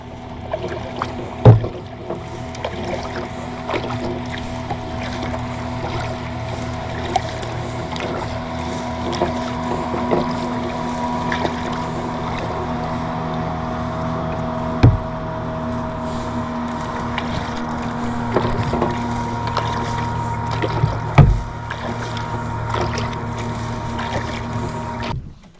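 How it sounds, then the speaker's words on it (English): A motorboat speeds past on Comox Lake near rock cliffs and a small island, a steady mid-distance engine drone running for the full length with some wind buffeting on the microphone. "There's a boat ripping by."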